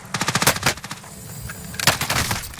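Rapid bursts of automatic gunfire from a shooter video game, loud and close, in two clusters of quick repeated shots separated by a brief lull, with no talking.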